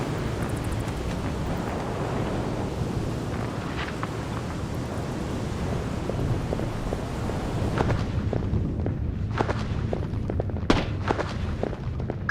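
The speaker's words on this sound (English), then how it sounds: "I'm hearing gunfire down there, Fisher." Gunfire in the PS2 video game Splinter Cell Chaos Theory: sporadic, distant-sounding sharp shots and bangs crackle over a steady, rumbling ambient wash, growing busier toward the end.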